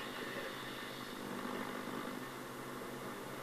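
A Knight Kit Star Roamer shortwave radio tuned near 9 MHz gives off steady, hissing static with a faint droning hum underneath, even and unbroken with no voices.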